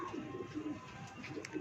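Pigeons coo steadily in a loft, with low, soft, rolling calls repeating throughout at close range and moderate volume.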